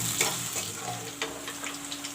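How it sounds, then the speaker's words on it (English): Chopped onions and green chilies frying in a pan, a steady close sizzle with soft scraping stir strokes, no voices. "I will let the onion turn brown"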